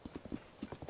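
Horse hooves clip-clop in The Legend of Zelda: Tears of the Kingdom, an uneven run of hollow knocks, close and fairly loud, with a brief pause in the middle of the burst.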